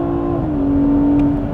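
A 2020 BMW 840i xDrive Gran Coupe with M Sport package, driven in comfort mode with its 8-speed automatic, gives a steady, loud engine drone with a sustained tone that steps up slightly partway through, close and continuous with no talking.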